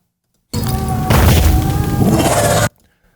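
A heavy booming impact, loud and close, with a dense rumbling crash that sustains for about two seconds before stopping abruptly.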